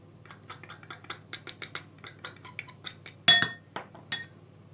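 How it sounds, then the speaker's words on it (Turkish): A utensil clinks repeatedly against a pot while hot boiled potatoes are stirred with butter, quick irregular metallic taps close by with one sharper ringing knock. "patatesimiz haşlandı sıcakken içine ben tereyağını ekledim. İyice karıştırıp eritiyoruz."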